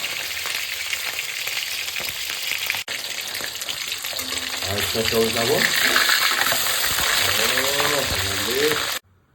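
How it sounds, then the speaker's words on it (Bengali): Pomfret fish frying in hot oil, a continuous crackling sizzle that grows louder midway, with some brief voice-like sounds over it near the end before an abrupt stop. "তেল গরম হয়ে গেছে এবার পমপ্লেট মাছটা আমি এর মধ্যে দিয়ে দেবো সুন্দর করে ভাজবো"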